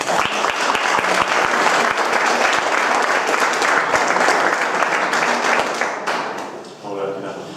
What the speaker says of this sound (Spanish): Muchas gracias, Chris, y un aplauso para él.